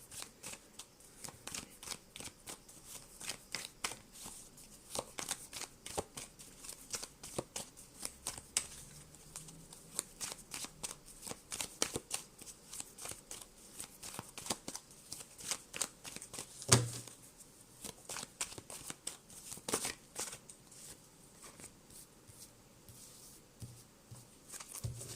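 Tarot cards are shuffled continuously at close range, a dense run of crisp riffling and slapping card sounds with brief pauses, quiet and without speech.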